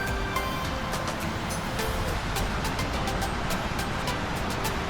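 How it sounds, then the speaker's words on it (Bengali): Water rushes down the Bisanakandi waterfall on the Meghalaya border near Sylhet, heard from about 50 to 60 metres away as a steady, dense roar of broadband noise with no voices. "ঝর্ণার ফ্লোটা দেখেন কি অসাধারণ।"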